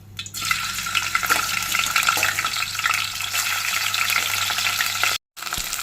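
Small methallu fish fry in about four spoons of hot oil in a pan, giving a loud, steady sizzle that is briefly stirred and cuts out for a moment near the end.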